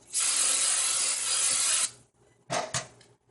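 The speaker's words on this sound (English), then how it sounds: "Let me get some spray to spray it" A long, close hiss of cooking spray on a pan lasts nearly two seconds, followed by two short bursts after a brief pause.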